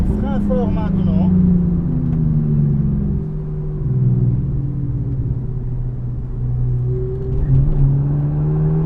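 A BMW M4 GTS race car lapping a circuit under hard braking; a steady engine rumble with falling pitch sweeps dominates throughout, loud and close, with a voice talking briefly at the start.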